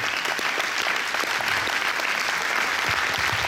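Concert audience at a live show in a venue applauding steadily, a dense wash of clapping with some cheering that holds at an even level throughout.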